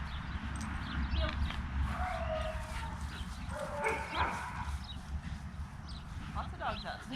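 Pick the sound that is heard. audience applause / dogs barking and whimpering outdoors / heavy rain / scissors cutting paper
dogs barking and whimpering outdoors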